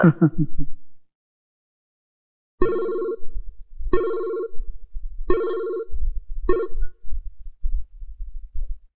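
A telephone rings four times in short bursts with pauses between, close by, after a brief voice at the start.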